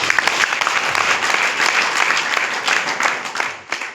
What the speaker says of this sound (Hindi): एक बार राजकुमार जी सर की ताली बजाएं।